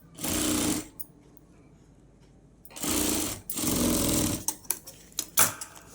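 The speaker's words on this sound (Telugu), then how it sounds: "రెండు ఈక్వల్గా పట్టుకొని ఒక స్టిచ్ వేసుకురండి" Electric sewing machine stitching a blouse sleeve, two loud sustained bursts of rapid mechanical stitching separated by a pause, followed by a few short stop-start whirs and clicks.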